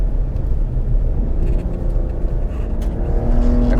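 A 2025 Ram RHO pickup rolling slowly over washboard ridges on a dirt road, giving a steady loud low rumble of engine and chassis with continuous jittery road vibration and no letup.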